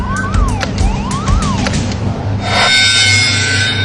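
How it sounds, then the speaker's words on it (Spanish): Loud electronic gas alarms on the Piper Alpha offshore oil platform wail and whoop in rising, falling sweeps, then shift to a steady high-pitched tone, close and continuous. "Él escuchó una serie de alarmas que sonaron justo antes de la primera explosión"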